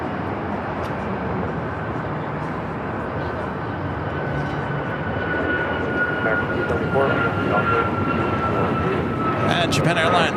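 An Aerologic cargo jet passes directly overhead, its engine roar swelling steadily louder with a faint rising whine running through it, while a person speaks beneath the noise.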